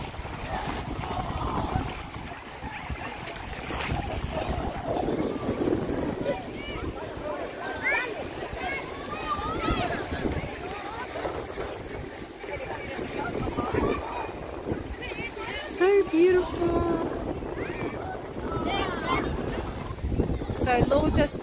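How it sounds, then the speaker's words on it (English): Strong wind buffeting a boat on open water, gusty rumbling microphone wind with splashing waves, steady and loud, with people talking over it at times. "It's quite windy, eh? Yeah. It's really it's pretty windy."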